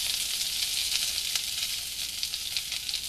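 Curry leaves and onion hitting hot oil with browned garlic in a pan for brinjal varuval, a loud, continuous hissing sizzle with a few crackling pops and no talk.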